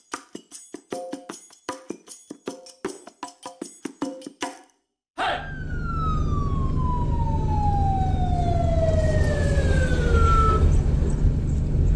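A rapid pulsing yelp pattern gives way to a loud, close wailing ambulance siren in Pakistan that sweeps slowly downward in pitch, over a low engine rumble.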